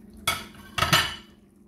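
A metal utensil scrapes seasoning off a small plate in two quick, close scraping strokes, the second longer and louder, with no voices.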